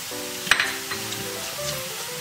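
Spices, including garam masala and red chilli, crackle and sizzle in hot oil as a dal tempering, with a sharp burst at the start, while a faint hum continues underneath.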